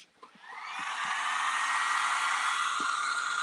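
A hair dryer starts up and blows a steady, loud whooshing stream of air to dry a decoupaged craft, rising over the first second and then holding constant with a few faint clicks beneath.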